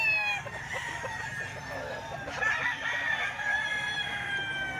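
A gold stag rooster crows repeatedly in a long, ringing call at moderate distance, with a low steady background hum and no talking.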